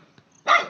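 A Shih Tzu puppy gives a single short, sharp yip at close range, preceded by a faint brief sound and near silence.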